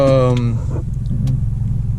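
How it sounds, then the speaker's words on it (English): Turbocharged Honda Civic with a 3-inch straight-pipe exhaust, heard from inside the cabin, revving loud and high at the start with strong harmonics, then dropping to a steady low, rumbling idle. "Just very high revving."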